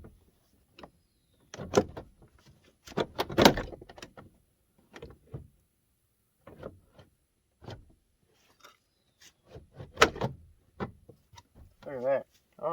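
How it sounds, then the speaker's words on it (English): Driver's door panel on a 2013 Ford F-150 being pressed and seated into place, giving several dull thumps and plastic clicks in bursts, close by, with brief rattles between them. "Now you seat the door."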